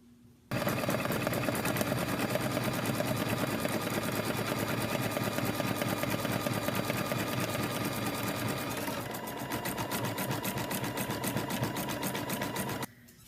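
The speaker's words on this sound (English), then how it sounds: "The next step after we trim our fabric away is the applique stitch all the way around." An embroidery sewing machine stitches an appliqué outline around a fabric pocket on a purse book page, a loud, close, continuous rapid needle whir that shifts slightly in tone partway through, then stops abruptly.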